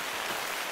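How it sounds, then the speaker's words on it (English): Steady rain falls in The Hunter: Call of the Wild video game, a brief continuous hiss of dense drops with no other sounds. "It's raining now, I guess you can tell."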